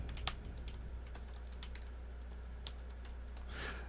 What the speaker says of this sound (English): I mean, it's definitely a mechanical keyboard. It's just not quite as clicky as I was probably expecting